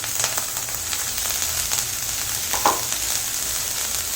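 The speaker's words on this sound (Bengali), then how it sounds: "গ্যাসটা কমিয়ে দিচ্ছি, লো ফ্লেমে ভেজে নেব" Frying on low flame in a pan for a no-onion, no-garlic paneer and bottle gourd dish: a continuous soft sizzle with a few light crackles and one brief clink, close and steady, no voices.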